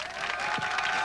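Audience applause for a band at a 1995 TBN broadcast: a steady wash of clapping throughout, loud and dense, with no one speaking.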